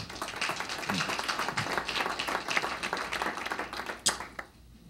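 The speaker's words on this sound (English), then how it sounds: "So big round of applause to all of you." Audience applause at an education technology panel event, a moderate round of clapping with some individual claps standing out before it fades near the end.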